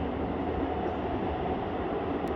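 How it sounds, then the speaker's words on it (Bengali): A train rumbles steadily through a tunnel on the Srinagar to Banihal line, a dense, continuous roar of wheels and carriage noise with no break. "টানেলের ভিতর দিয়ে এখন ট্রেন আমাদের ছুটে চলেছে"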